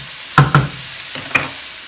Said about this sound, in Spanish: voy a acitronar la cebolla solamente a que esté transparente